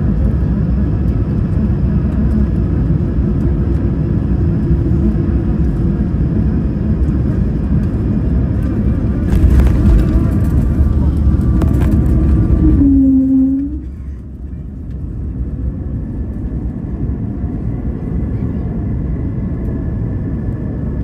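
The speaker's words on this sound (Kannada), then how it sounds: "ಇನ್ನೇನು ಫ್ಲೈಟ್ ಲ್ಯಾಂಡ್ ಆಗ್ತಾ ಇದೆ." A passenger airplane lands at New York: a steady, loud roar of engines and cabin rumble fills the clip, swells briefly near the middle, then drops to a lower hum as it slows.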